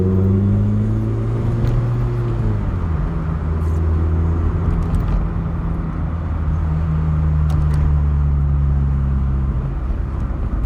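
Vauxhall Cavalier Mk2 with its 2 litre 8 valve engine, a loud continuous in-car drone that shifts pitch as it changes gear and pulls through the revs, with no voices.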